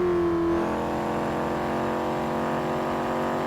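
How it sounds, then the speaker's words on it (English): In GTA V, a C7 Corvette's V8 engine downshifts: a sharp engine note drops in pitch after half a second, then settles into a lower, steady rumble as the car coasts off the throttle. "You hear that V8 downshifting."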